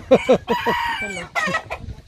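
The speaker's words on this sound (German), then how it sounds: "Das sind die Hähne am Kämpfen hier." Roosters fighting in the Philippines, heard close and loud as a quick run of sharp clucks and squawks broken up by short crow-like cries, with no voices over them.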